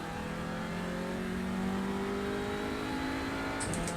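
Audi RS3 LMS TCR race car engine in iRacing revving steadily under acceleration, a loud continuous mid-pitched drone rising in tone, with a brief higher burst near the end.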